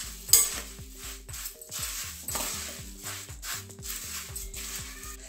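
Puffed rice for Kolkata-style jhalmuri is tossed with mustard oil in a rhythmic, repeated mixing motion. The soft scraping and rustling strokes come close and steady, with no talking.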